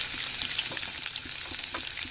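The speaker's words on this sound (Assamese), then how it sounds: "এতিয়া ৰচুনটো ৰঙা কৰি ভাজি ল'ম।" Garlic, onion and a dried chilli fry in hot mustard oil in a wok, giving a dense, continuous crackling sizzle with small pops, close and fairly loud, no voices.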